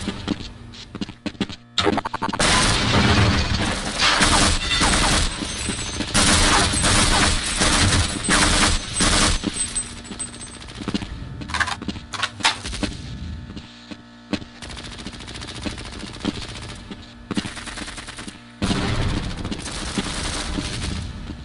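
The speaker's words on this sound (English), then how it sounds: "Where's that additional shooting coming from?" Dense, sustained gunfire and explosions from the video game Half-Life: Blue Shift, with loud continuous bursts and rapid volleys over a steady hum, almost no pauses and no speech.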